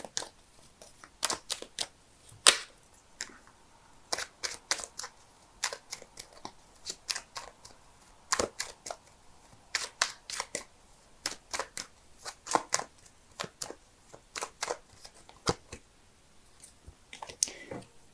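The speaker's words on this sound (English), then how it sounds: "so give me a sec while I shuffle." Tarot cards riffle and snap in quick irregular bursts, soft and close, with no talking.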